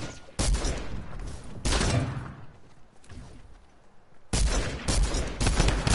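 Bursts of rapid gunfire in a shooter video game, loud and close, in several separate volleys with short gaps between them and no talking.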